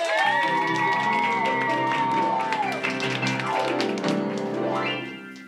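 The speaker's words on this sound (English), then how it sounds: "Round of applause, ladies and gentlemen!" A classroom greets a special guest with applause and cheering, clapping and excited voices blending into a lively crowd noise at close range, with shouts and whoops rising over the claps before tapering off at the end.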